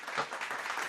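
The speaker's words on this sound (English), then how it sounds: "Give a big applause." A brief applause sound effect: a short, faint burst of clapping, thin and quick, lasting under a second.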